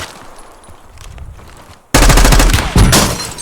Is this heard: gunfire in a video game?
yes